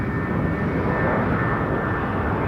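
A jet airliner climbs away on takeoff at Toronto Pearson Airport, its engines a loud, near, steady rumble with a faint whine riding above, no speech heard.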